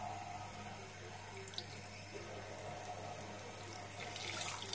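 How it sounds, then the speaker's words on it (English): A cold-water tap runs steadily into a sink while a konjac cleansing sponge is rinsed under it, a constant near splashing stream with no talk. "So I'm now rinsing it in cold water"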